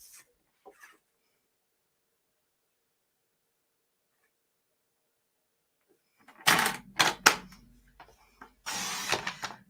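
Paper is trimmed for a layered leaves wreath card. After long quiet, close sliding and cutting strokes come in a short cluster of scraping bursts, then another brief rasp.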